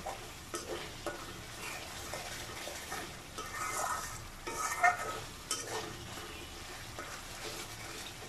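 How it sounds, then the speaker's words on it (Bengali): Spice masala for liver bhuna sizzles in a pan while a spoon stirs it steadily, with soft scraping strokes and a gentle frying hiss throughout. "আমি ভালোভাবে নেড়ে নিচ্ছি যাতে মশলাটা ভালোভাবে কষানো হয়।"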